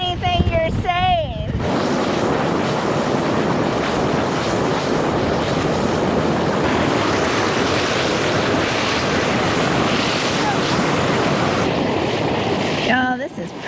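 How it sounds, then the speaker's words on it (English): Strong, freezing wind roars continuously across the microphone at Sugarloaf Recreation Area, a loud, steady buffeting broadband rush; brief talk occurs at the very start and end. "it's freezing cold and very, very windy"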